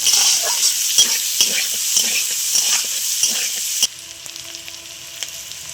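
Onion frying in oil in a pan for egg vegetable chowmein, a dense bright sizzle with repeated scraping stirs that suddenly drops to a quieter crackle partway through, no voices.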